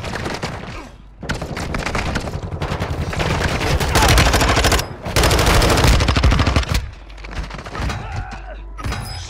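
Heavy automatic gunfire in a Warzone 2 match, long rattling bursts broken by brief pauses, loud and close, with a few sharper single shots near the end.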